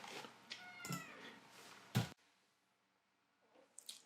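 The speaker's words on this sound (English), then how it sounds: "my cats are being mega annoying today and are just screaming and whinging for fuss constantly" Pet cats meowing and crying insistently for attention indoors, several drawn-out wavering meows close by, then a sharp knock and a short faint cry after a pause.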